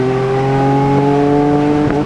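A car engine held against the rev limiter while the check engine light flashes, a loud steady drone with strong harmonics bouncing at constant high revs, close up, with a brief dip near the end.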